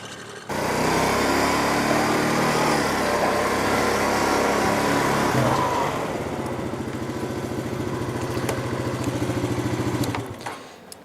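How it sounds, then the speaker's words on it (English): The engine of a 2007 Honda Rancher ATV starts up and runs with a steady, loud, rattling drone. The idle settles into a lower rhythmic chug partway through, then cuts off at the end. "2007 Honda Rancher AT."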